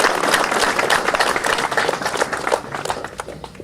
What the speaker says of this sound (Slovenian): seveda pa zasluži en aplavz za svoje hitrejše okrevanje